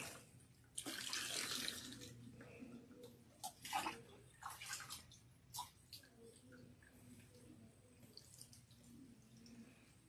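Water runs and splashes while shampoo is rinsed out of hair, with uneven bursts of streaming and dripping. It is fairly faint, sits over a low background hum and has no clear speech.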